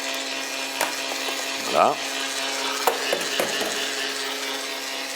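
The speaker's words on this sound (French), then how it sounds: "nous allons mettre les blancs à monter immédiatement. Vitesse moyenne pour commencer." A mixer whips egg whites at medium speed, producing a steady, close mechanical whir with a constant tonal hum throughout, briefly joined by a single spoken word.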